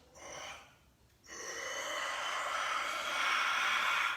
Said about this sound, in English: Inhale, right into the heart and belly. And as you exhale, press it out.